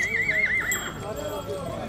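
A horse at a horse exhibition fair in Uriu, Bistrița-Năsăud, gives a loud, wavering whinny, then quieter neighing and clip-clopping hooves, with people talking nearby throughout.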